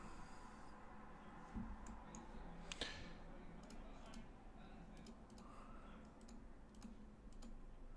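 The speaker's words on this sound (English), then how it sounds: "Just messing around, clicking buttons." Faint, scattered mouse or keyboard clicks on a computer, irregularly spaced over a quiet room hiss, with no speech.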